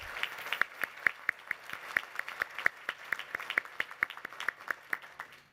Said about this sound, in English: I would like all of you to applaud those two young ladies again